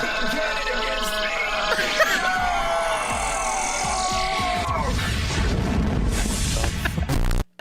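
A Special Beam Cannon blast effect in a game, with a rising energy charge, a dense roaring burst and crashing booms lasting several seconds before cutting off abruptly, with voices talking over it.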